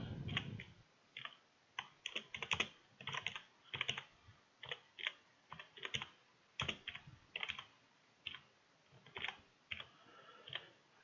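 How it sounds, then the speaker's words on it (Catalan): Computer keyboard typing while entering spreadsheet data: quiet, close bursts of key clicks in irregular clusters with short pauses, continuing throughout. "I ara començo a escriure les dades."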